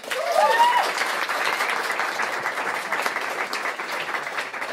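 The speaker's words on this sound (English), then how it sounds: "Can you please put your hands together" An audience applauds a physics lecturer at a pub science talk, with steady, dense clapping that holds loud and even throughout and no voices on top.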